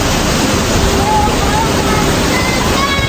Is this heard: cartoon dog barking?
no